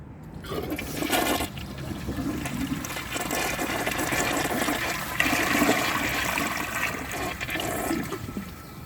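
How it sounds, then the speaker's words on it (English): A 2005 American Standard Cadet toilet flushes loudly and up close, a sustained rushing gush of water draining the bowl that stays strong for about nine seconds with no talking. "So I'm going to give this another flush and just see what more I can get out of it."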